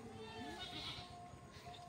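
Goats bleat from a shed on a goat farm where young kids were recently born, the calls rising briefly and partly masked by someone talking steadily nearby.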